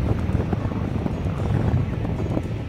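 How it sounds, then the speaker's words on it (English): Steady wind rushing and buffeting against the microphone at a beach, a continuous low roar with no voices. "It was high tide and so windy,"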